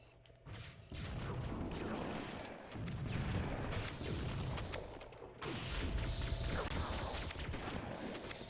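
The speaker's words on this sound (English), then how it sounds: "Where am I getting rocketed from?" Rocket explosions and gunfire in the Halo: Combat Evolved video game, with repeated heavy booms and blasts coming in loud waves over a dense rumbling battle background, with no talk.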